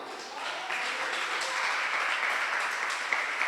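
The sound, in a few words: congregation applauding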